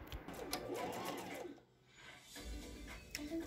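A sewing machine stitches the collar seam of a men's sport-collar shirt, running as a steady close whir that dips briefly midway and then resumes, with no talking.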